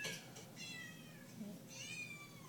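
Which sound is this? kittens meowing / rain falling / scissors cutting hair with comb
kittens meowing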